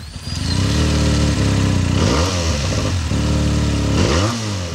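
A Benelli BN302 motorcycle engine revs loudly and up close, rising and falling in pitch through repeated throttle blips as it accelerates, with no voices over it.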